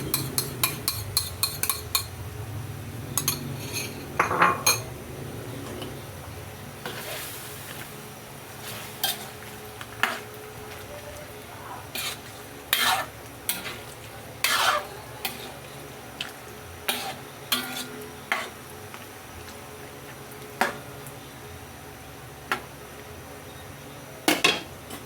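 Pork and chicken mechado in tomato sauce is stirred in a pot, with sharp metal clinks and scrapes of a spoon against the rim coming in irregular bursts over a low steady simmer.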